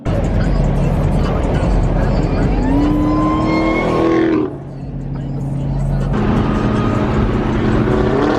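Powerful cars, Hellcats and Trackhawks, rev hard at an Alabama roll race, a loud engine climbing in pitch, then a sudden drop and a renewed roar, with voices faint in the background.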